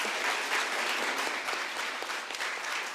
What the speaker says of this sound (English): Let's give these wonderful, phenomenal queens a big round of applause